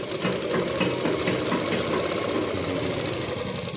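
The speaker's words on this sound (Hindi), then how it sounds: "ये देखिए, आगे से इस तरीके से घुमाते हुए हमें ऐसे सिलाई को निकालना है।" A sewing machine stitches a Rajputi suit with a fast, steady mechanical whir and rapid needle clatter, running continuously and close up with no pause.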